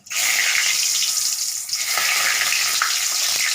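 Cinnamon, dried chillies and bay leaf frying in hot oil make a loud, continuous sizzle with a sharp onset as the spices hit the oil, then steady crackling throughout, no talking.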